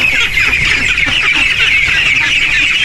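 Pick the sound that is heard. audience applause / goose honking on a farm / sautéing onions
goose honking on a farm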